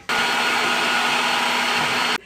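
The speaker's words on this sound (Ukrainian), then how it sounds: "Тепер цибулю з моркою обсмажену я відправляю до м'ясорубки чи до блендера." A blender or mincer grinds fried onion and carrot in a kitchen, a loud steady whirring motor that starts abruptly, runs evenly for about two seconds, then cuts off.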